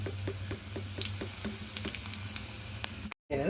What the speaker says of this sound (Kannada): ಸಾಸಿವೆ ಸಿಡಿಲಿಕತ್ತಾವ.